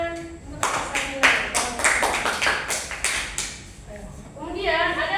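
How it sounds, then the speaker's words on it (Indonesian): A small class claps for a student during a micro-teaching lesson, a short burst of sharp, uneven hand claps that thins out, with a voice speaking over the end. "Beri tepuk tangan untuk Sarmila."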